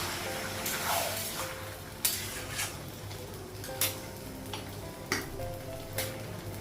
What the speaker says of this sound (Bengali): মাংসটাকে কষে নেব